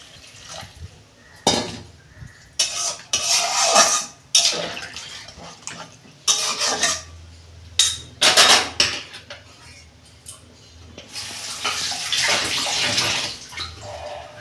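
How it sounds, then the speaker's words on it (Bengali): Water is poured into a pan of vegetable egg curry cooking on a gas stove, giving bursts of splashing and pouring alongside clinks of utensils against the pan, with no talking. "কষানো হয়ে গেছে আমি জল দিচ্ছি পরিমাণ মতো জল দেবো"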